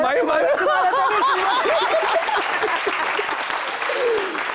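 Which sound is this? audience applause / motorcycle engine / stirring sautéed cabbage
audience applause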